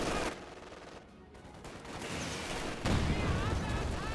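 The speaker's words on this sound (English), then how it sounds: "the pack gun just laying into this house in the center, trying to do as best it can" In the game Company of Heroes 2, a Pak anti-tank gun fires on a house amid dense battlefield gunfire and explosions, with the blasts booming over a continuous roar of combat.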